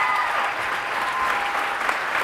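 A crowd gives a steady, loud round of applause at a campus event, continuous clapping filling the whole short stretch without a break.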